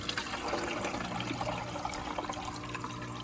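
An aquarium filter self-primes on a new fish tank: steady rushing and gurgling water as the chamber fills, running continuously at moderate level with no voices.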